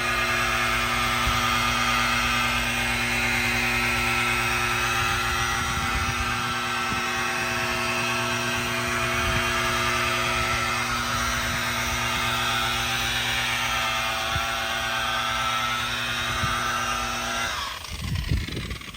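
Rotary buffer running a wool pad with Starke Level R heavy cut compound on a car finish, a loud, steady motor whine with a constant tone, winding down near the end.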